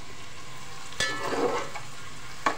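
Onions and star anise frying in oil and ghee for masoor pulao, a steady sizzle broken by a few sharp stirring scrapes and a brief louder hiss, close and without talk.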